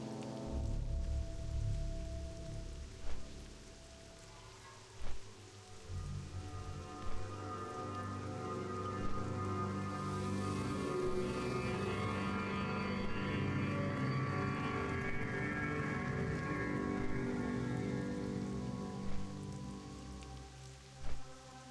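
Steady rain falls across the World of Warcraft landscape as a dense, even patter with a low hum beneath, broken by occasional louder drops or thumps, continuous throughout with no talk.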